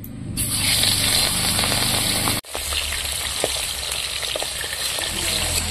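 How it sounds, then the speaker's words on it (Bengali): Pieces of katla fish fry in oil in a wok, a loud, dense crackling sizzle that runs throughout, cut by a momentary break partway before the spitting resumes. "আর প্রথমেই কাতলা মাছগুলো ভাজবো।"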